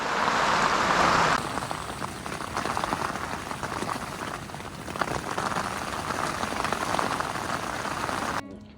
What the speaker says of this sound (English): As morning drew in, so did the rain,